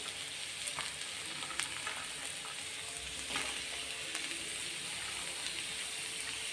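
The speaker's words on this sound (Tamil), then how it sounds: "வெங்காயம் கொஞ்சம் வதங்கட்டும். இப்போ காய்ங்க ஒன்று ஒன்று சேர்த்துக்கலாம்." Onions and mixed vegetables sauté in a hot pan for vegetable fried rice, giving a steady, close sizzle and frying hiss with faint stirring scrapes throughout and no talking.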